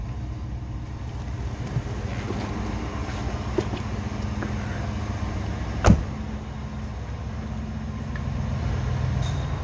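A low-mileage 1995 Cadillac DeVille Concours engine idles smoothly and quietly, a soft steady low hum throughout, with one brief sharp click or thump partway through.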